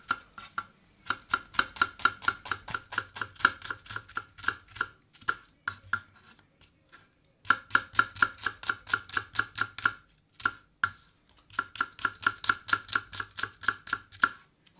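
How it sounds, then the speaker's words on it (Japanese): A sharp kitchen knife finely chops shallots on a board, rapid crisp taps in fast regular bursts of a dozen or more strokes, separated by brief pauses, close and clear with no talk. "しずれするときはよく切れる包丁を使ってまず細かく縦に切り目を入れていきます。"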